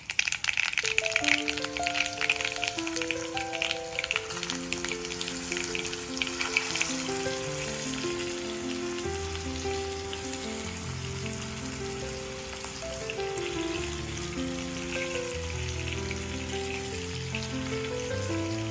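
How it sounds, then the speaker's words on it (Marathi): Bitter gourds stuffed with masala frying in hot oil, a continuous crackling sizzle like rain on a surface, loud at first then settling, while some tonal background music plays throughout. "आता ह्यामध्ये आपण मसाला भरलेली कारली घालून घेणार आहोत"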